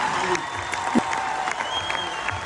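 An audience at a Tunisian stage show applauds, steady dense clapping from a crowd with faint voices mixed in, continuous for a couple of seconds.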